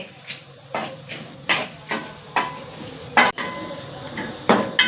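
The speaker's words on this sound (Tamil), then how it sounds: "நம்ம இறச்சியை தட்டணும்" Country chicken meat for a Kanyakumari-style curry is pounded in about a dozen sharp, close knocks, spaced irregularly at roughly half-second intervals with short ringing decays.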